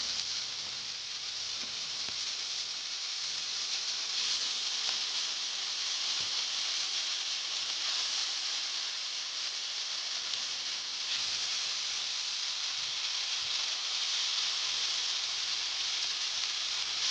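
Fish coated in masala frying in hot oil, a continuous bright sizzling hiss that holds steady and close for the whole stretch, with no voices.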